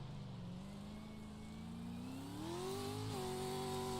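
A race truck engine drones steadily at moderate distance during a race at Crandon, not sounding quite right, its pitch gradually climbing as it revs up, with no voices.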